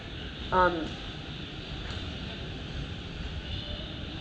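An airplane at Kuala Lumpur airport gives a steady, distant jet drone that fills the whole moment, with a short high chirp near the start.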